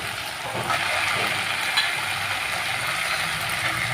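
Meat being stirred into a sizzling spiced masala in a pan gives a steady, close frying hiss with faint scraping from the stirring, continuous throughout and free of talk.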